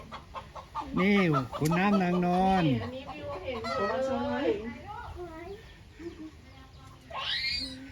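Chickens cluck and squawk in a rural hill village in Mae Sai, Chiang Rai, with loud rising calls that overlap with people and children talking nearby.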